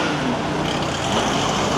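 A bus overtaking on a road in North Goa, a steady loud roar of engine and tyre noise close by, with no pauses.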